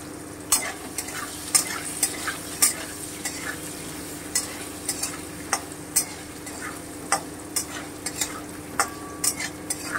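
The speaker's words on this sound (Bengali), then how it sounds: "আমি পনিরগুলোকে খুবই হালকা করে ভেজে নেব।" Paneer fries lightly in a pan with a steady close sizzle, broken by regular clinks and scrapes of a utensil stirring the pieces, and no speech.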